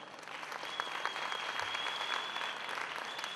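A large audience applauds steadily throughout at a business success-story event in Singapore, a dense, even wash of clapping with no voices above it.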